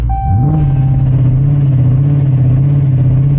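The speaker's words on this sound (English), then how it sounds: "To launch, press the brake and quickly apply full throttle." A BMW X4 engine held at full throttle on launch control with the brake pressed, a loud steady revving drone that rises quickly and then stays flat and sustained.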